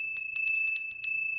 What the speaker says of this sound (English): And I got a bell here